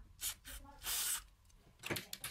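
Several short hissing bursts of aerosol spray into the controls of an Otari MX 5050 tape machine, one longer than the others, quiet and close, separated by brief pauses.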